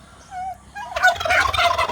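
A farm turkey lets out a close, loud gobble, a quick burbling rattle following a few faint high calls just before it.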